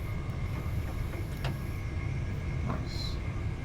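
A Southeastern Class 375 electric train speeds along the London Victoria to Dover Priory line, heard as a steady, loud rumble of running gear with a few faint clicks and rattles.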